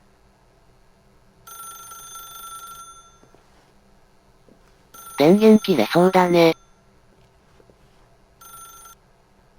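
A telephone rings in the video game The Stanley Parable, with bursts of a bright electronic bell tone at moderate loudness, one short ring sounding before a longer rapid ringing burst and a brief ring afterward, while a person speaks.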